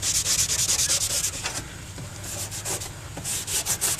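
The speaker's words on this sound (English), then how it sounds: "then just scrub it hard with this red Scotch Brite" A red Scotch-Brite pad scrubbed hard over rusty car body metal makes close, rhythmic rasping strokes. They come fast at first, ease off briefly, then quicken again.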